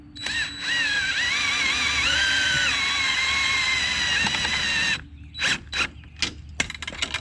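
A power driver whirs steadily for several seconds while tightening fasteners on a FlexStep Pro boat step installed on a Triton 21 TRX Elite bass boat, followed by short ratcheting bursts and clicks.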